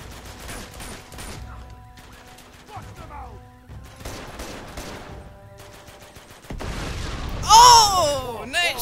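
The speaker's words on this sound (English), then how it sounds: "Oh, nice shot, Sully." Gunfire in the video game Uncharted 2 crackles in bursts through a noisy firefight, with a louder surge of shots and blasts near the end and a voice talking intermittently over it.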